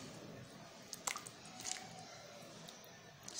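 Chicken pieces being mixed into a marinade by hand or spoon give soft, wet squishing and squelching sounds, quiet and close, with a few slightly louder squelches in the middle and no talking.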